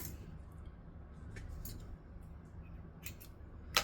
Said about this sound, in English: grab our vinyl scissors, which funnily enough are also my zipper scissors, and then just trim off some of that excess vinyl in the corners